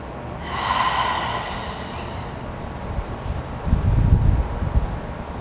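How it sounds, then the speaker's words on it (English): Slow cleansing breaths during a yoga practice: a long inhale drawn in through the nose, then a fuller, rushing exhale out through the mouth, close and heard alone. "I always like to take a few cleansing breaths in through my nose and out through my mouth."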